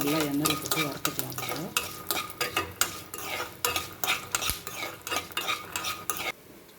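Coriander seeds and peeled peanuts fry in oil in a pan for an Andhra-style ivy gourd thogayal, with a steady sizzle under repeated scraping, clinking stirs of a metal spoon, close and fairly loud, easing off at the end.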